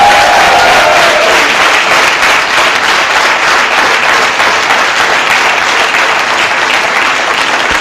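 Loud, dense audience applause at a business success-story event, honoring a couple, sustained and even for the whole stretch with a brief tone at the start.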